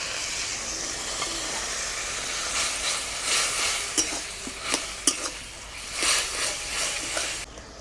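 A hot pan of gima greens with mustard paste, turmeric and salt sizzles steadily after a little water goes in, a close, continuous hiss with a few sharper crackles and stirring scrapes.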